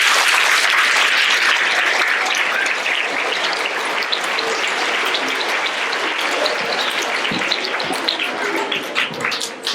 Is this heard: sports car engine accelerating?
no